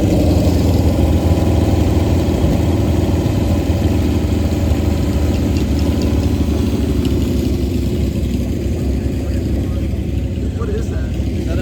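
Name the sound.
chopper motorcycle engine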